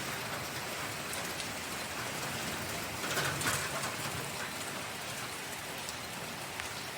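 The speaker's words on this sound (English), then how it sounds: "And of course, I had to start downpouring." Heavy rain pours down in a steady, dense hiss outside a parked van, with a brief swell in intensity midway and faint bird calls beneath.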